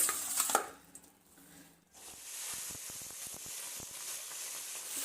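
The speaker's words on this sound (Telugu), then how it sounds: "ఇప్పుడు ఇవి నూనెలో వేసేద్దాం" Raw prawns drop into hot oil and a loud, sustained frying sizzle follows, dotted with crackles and pops. It comes after a brief clatter and a quiet pause.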